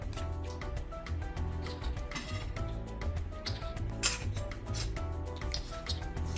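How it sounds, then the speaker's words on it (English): A spoon scooping butter from a container for a balushahi dough, giving soft clinks and scrapes against the container over a steady low background hum, no talking. "Add the butter. Use a spoon to get it out."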